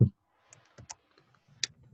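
A few sparse keyboard keystroke clicks during a meeting, faint and irregular, with a loud thump at the start and low murmuring voices between the taps.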